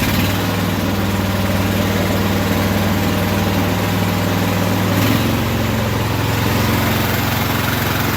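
A Simplicity small engine, likely a lawn tractor or mower, idles steadily after its choke is taken off, a continuous close, loud low hum running throughout with a slight shift in tone near the middle.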